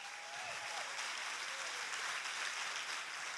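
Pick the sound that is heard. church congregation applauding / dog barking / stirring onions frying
church congregation applauding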